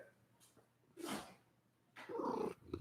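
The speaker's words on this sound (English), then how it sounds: "here's our talker cat" A cat meows twice, drawn-out and fairly close, with a quiet pause between the calls.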